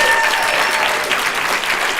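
Applause from an audience at a school board committee meeting, honouring teachers: dense, steady clapping close by that fills the whole stretch without easing off.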